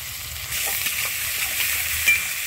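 Onion pieces and chopped garlic frying in oil with a fenugreek seed tempering give off a steady, soft sizzle and hiss, with faint stirring clicks and no talk.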